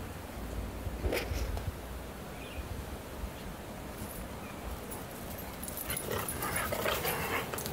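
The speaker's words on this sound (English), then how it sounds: "he's just making a lot of growling noises" Dobermann dogs playing, with steady low rumbling growls and occasional yips or whimpers running continuously at close range, no talk.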